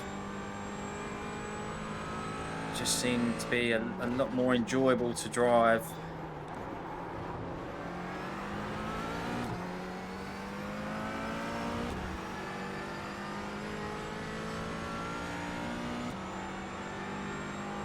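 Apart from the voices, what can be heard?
McLaren 570S GT4 engine revving in iRacing video game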